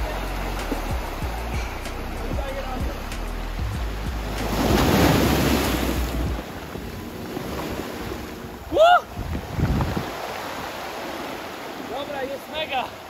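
Atlantic waves wash over and drag back across a stony shore in Madeira: a steady roar of surf with one louder surge midway, wind buffeting the microphone and a few bursts of nearby voices.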